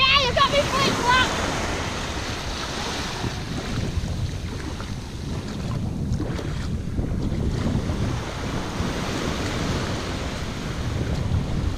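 Wind buffets the microphone on a Brittany beach in September while waves wash in and break nearby, a steady rough roar with brief voices near the start.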